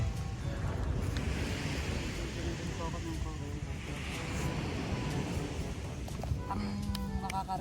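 Ocean waves wash onto a calm seashore at sunset as a broad, steady rush of surf mixed with wind noise, with a voice speaking over it.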